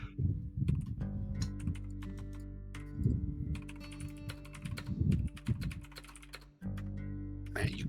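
Someone types steadily on a clicky keyboard, making dense close-up clacking under a low background hum, with faint bits of voice in places.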